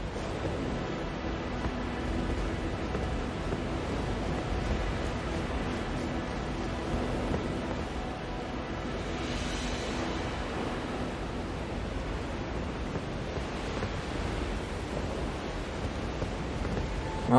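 Ocean surf in the video game Elden Ring, a continuous broadband wash of rolling waves that swells and eases gently over about seventeen seconds, steady and moderately loud with no voices.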